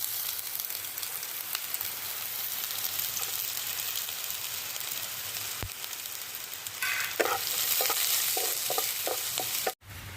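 Chopped garlic, chili and ginger frying in hot white oil in a pan, a steady close sizzle that runs throughout, with a few light spoon scrapes near the end.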